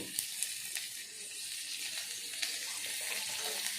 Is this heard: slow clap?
no